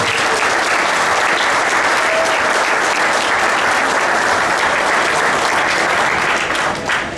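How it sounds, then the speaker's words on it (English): A banquet audience gives sustained, loud applause for the township, dense steady clapping from many hands filling the room without a break. "Please, a round of applause for our township"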